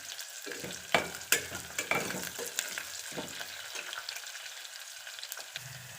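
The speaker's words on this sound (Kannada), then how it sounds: "ನಾನು ಸ್ವಲ್ಪ ಕೆಂಪು ಆಗೋದು ಹುರ್ಕೋಬೇಕು ಇದನ್ನು" Ingredients frying in a pan for a rice dish, with a steady sizzle broken by several sharp scraping stirs of a spatula against the pan, close and with no talking.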